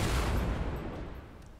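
Rapid gunfire in the Fortnite video game, a dense loud burst that fades out over about a second and a half.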